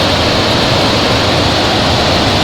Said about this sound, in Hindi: वो उधर वो पानी आवाज़ आ रही है